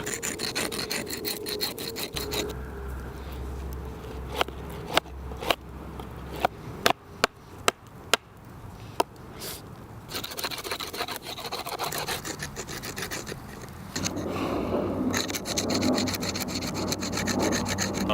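A wooden spear shaft being smoothed along its edges by hand, with steady rasping and rubbing strokes, several sharp knocks in the middle, then heavier scraping toward the end.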